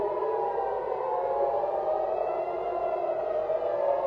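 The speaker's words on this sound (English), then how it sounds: "We're hearing sirens." Air raid sirens wail steadily and continuously, a sustained rising-and-falling civil defense tone heard alone and fairly distant, filling the whole stretch without any voices.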